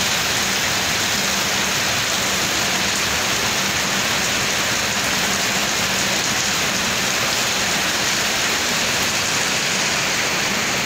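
Steady rain pours during rubberized road tarring in front of a police station in Thrissur, Kerala, a dense, even hiss of drops on the road surface throughout with no voices.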